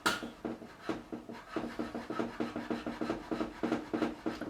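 Steady back-and-forth rasping of nut files cutting the slots of a guitar nut on a freshly built reliced Telecaster, about a dozen even rhythmic strokes, close and fairly loud with no talking.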